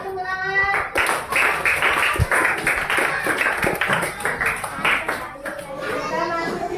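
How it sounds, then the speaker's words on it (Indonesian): Schoolchildren in a primary school classroom clap together in a dense burst of applause, with children's voices chattering over the clapping. "Tepuk tangan."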